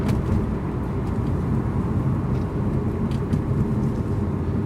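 Steady road and engine rumble from inside a 2003 Mitsubishi Eclipse cruising at highway speed, a continuous, even drone with no talking.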